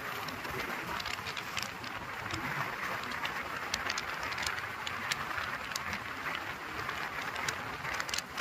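A train runs on railway tracks between Limgaon and Vanegaon stations on the Parbhani–Purna–Nanded line, a dense continuous rumble and rattle heard from onboard, steady and fairly loud throughout.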